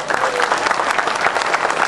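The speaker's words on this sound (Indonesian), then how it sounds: "Tepuk tangan sekali lagi semuanya." A crowd at a Kenduri Cinta gathering in Indonesia breaks into brief, dense applause after a jazz group's set, loud and close, with no voices over it.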